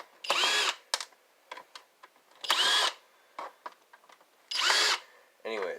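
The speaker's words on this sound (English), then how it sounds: "The thing we're going to need is a skill drill, which has worked very well for me" A power drill whirs in three short bursts about two seconds apart, with quieter clicks and handling noises between them.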